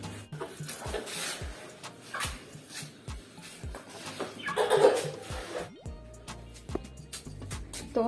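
Two chickens cluck in a bathroom while being fed rice, giving intermittent clucks and low murmurs against quiet household noise, with a brief louder burst midway.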